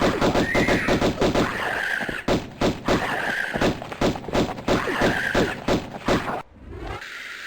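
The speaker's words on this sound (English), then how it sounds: "hiding in here means I can easily use the pistols" Pistol gunfire in the Tomb Raider 1 Remastered video game, a loud, steady volley of sharp shots fired in quick succession for several seconds, stopping abruptly near the end, with no talking.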